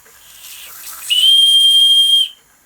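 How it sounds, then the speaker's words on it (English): A steam whistle on an Empco B-43 model steam engine blows loudly for about a second, a sustained shrill tone over hissing steam, then cuts off. "Let's try the whistle."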